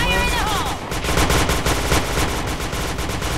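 Rapid automatic gunfire in the shooter game Point Blank, dense loud bursts of shots running continuously with clipped electronic game effects layered over them.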